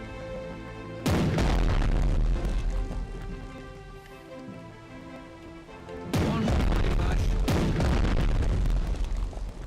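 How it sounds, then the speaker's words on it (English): A warship's main gun fires twice in Strategic Mind: The Pacific, each a heavy, deep boom several seconds apart that rolls into a long, rumbling tail over a steady tonal backdrop. "Oh, show them our main gun."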